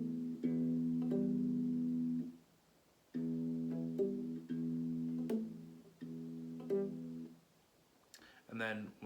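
Acoustic guitar played in a fingerpicked pattern from a song, with ringing plucked notes in repeating phrases and short gaps, followed briefly by a voice at the end.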